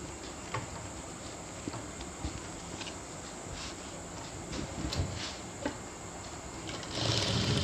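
A sewing machine stitching a natural jute bag, a steady high-pitched mechanical whir with small rhythmic ticks, moderately quiet and running continuously, growing slightly louder at the end.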